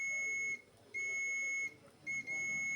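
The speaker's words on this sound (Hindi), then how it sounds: "ये देखो बीप आ रही है" An Epson L805 printer with a no-power fault sounds steady high-pitched beeps in three stretches, separated by short gaps, with no talk over them.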